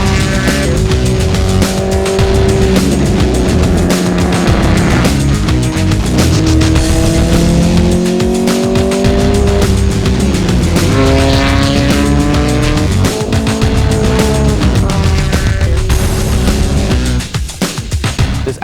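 A Datsun 510 race car drives up hard, its engine loud and close, revving and shifting through rising and falling pitch sweeps with bursts of tire squeal, continuous across the stretch.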